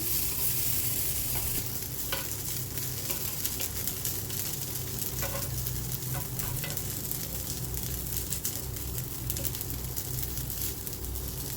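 Potato sabudana appe fry in an appe pan after being flipped, their cooked side golden and crisp, giving a steady, close sizzle with faint scrapes throughout and no talking.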